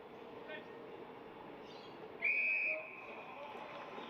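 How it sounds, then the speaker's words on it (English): A referee's whistle blows once at an Australian rules football match between Claremont and East Perth, a sharp half-second shrill blast cutting through steady crowd noise and commentary. "Whistle sounded, an illegal block in the ruck."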